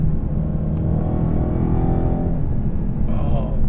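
A modified Dodge Charger Hellcat pulls away with a deep, loud rumbling engine note that holds steady and then tapers, with voices talking over it.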